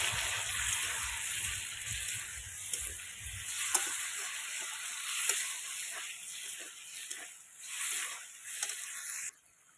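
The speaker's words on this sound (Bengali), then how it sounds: "আমি কিন্তু অল্প করে জল দিয়েছি আর ঝোলটা কিন্তু ফুটে উঠেছে" Potato curry gravy bubbles on the stove after a little water is added, a close, soft hiss of simmering with a low churning rumble early on, then quieter bubbling and occasional faint pops.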